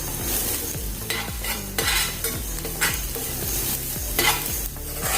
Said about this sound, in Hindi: थोड़ी देर इसको भी भून लेंगे।